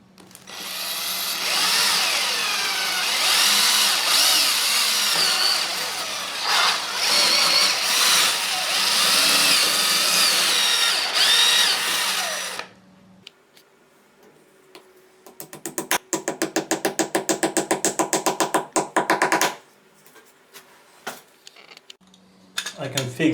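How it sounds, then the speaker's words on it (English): A power drill fitted with a tile drill bit bores into wall tiles while fitting the bottom bracket of a Triton thermostatic shower valve, first as a long loud grinding run, then a shorter burst after a pause. "I'm using the tile drill bit just to drill in tiles."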